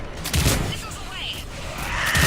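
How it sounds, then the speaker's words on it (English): Missiles launching in the video game Mass Effect 3, a broadband whooshing rush with a low thump at the start and end, under game voices and a busy combat soundscape. "Missiles away."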